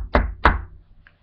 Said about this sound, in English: it was about 2 hours later when we heard a knock on the door.